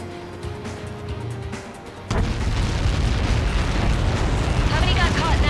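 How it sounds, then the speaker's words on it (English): A huge blast from a missile impact in the Ace Combat 7 flight combat game, erupting suddenly into a loud, sustained rumbling roar that follows a quieter stretch of engine drone and radio chatter. "How many got caught in that explosion?"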